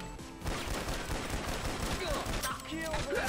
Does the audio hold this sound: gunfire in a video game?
yes